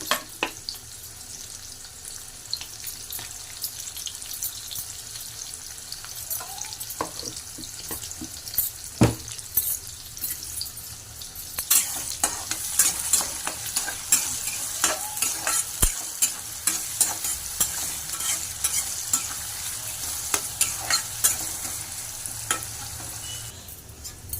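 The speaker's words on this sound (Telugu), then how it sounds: "ఆయిల్ ఎక్కినాక ఆనియన్ వేసుకుంటున్నా ఆనియన్ తొందరగా మగ్గనికి కొంచెం అంత సాల్ట్ వేసుకుంటున్నా" Onions with salt frying in hot oil while being stirred, a continuous close sizzle broken by frequent spatula scrapes and clatters that grow busier and louder toward the end, no voices.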